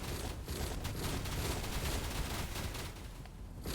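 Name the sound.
sentry turrets firing in video game Torchlight Infinite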